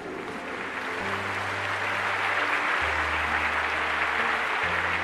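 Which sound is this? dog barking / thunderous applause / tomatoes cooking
thunderous applause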